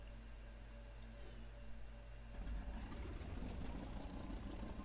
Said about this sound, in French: Et vous allez entendre après les injecteurs se mettre en route.